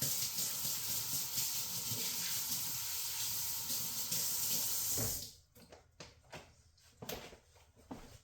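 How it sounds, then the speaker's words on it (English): Hands washed under a running tap, a steady close rush of water for several seconds that then shuts off, leaving scattered drips and small wet rubbing sounds. "I'll wash my hands."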